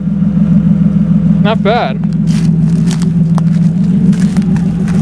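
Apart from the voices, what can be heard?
car engine running after repair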